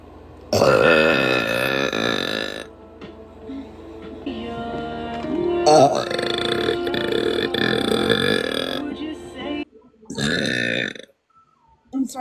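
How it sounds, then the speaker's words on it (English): A woman lets out a series of loud, deep, resonant burps at close range, several long drawn-out belches separated by brief pauses, the last ones shorter and choppier. "I'm fucking burping my ass off"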